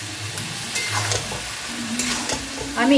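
Ground spice paste poured into a hot pan for a Bengali pumpkin dish, kumror chokka, crackling and sizzling while being stirred, loud and close, with a short spoken word in Bengali.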